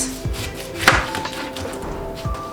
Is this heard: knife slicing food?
yes